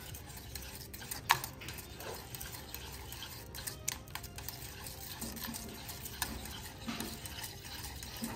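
Soft, quiet stirring of a pistachio tiramisu mixture with date syrup in a pot, faint scraping strokes with a few small clicks, close by and without talk.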